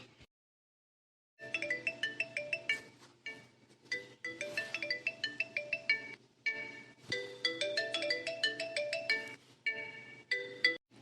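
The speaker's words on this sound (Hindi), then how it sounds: "अब इतनी सुबह सुबह किसका फोन आ गया?" A phone ringtone plays a repeating electronic melody in bursts with brief pauses, fairly clear and close, with no voices.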